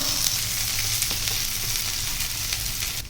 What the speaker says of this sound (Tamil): மீனை போட்டுட்டு இதே மாதிரி ஆயில் சேர்த்துக்கோங்க.